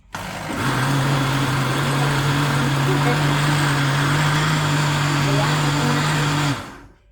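A kitchen blender whirs through sticky rice ice cream with matcha powder, kicking in sharply, holding a loud, steady motor hum for about six seconds, then cutting off abruptly.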